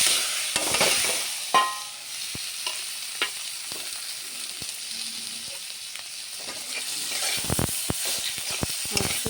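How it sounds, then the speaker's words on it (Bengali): Small puti fish sizzle and crackle in a hot pan of oil, a steady close frying hiss with scattered pops and a few utensil clinks. "এখন মাছটি দিয়ে দেব।"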